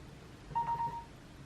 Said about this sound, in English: Oh, I have a notification. I thought I had put my phone on silent.